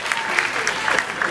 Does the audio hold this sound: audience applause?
yes